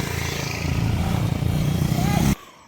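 A motorcycle engine labours up a steep mountain road, loud and close in a steady, rough drone for about two seconds before abruptly cutting off.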